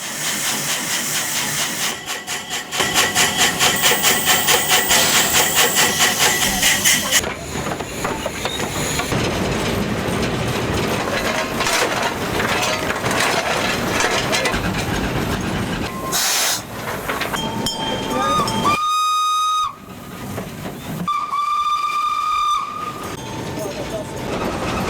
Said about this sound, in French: La ligne de chemin de fer désaffectée a été réactivée par Agrivap, qui propose différentes formules, de l'antique train à vapeur à la très moderne voiture panoramique.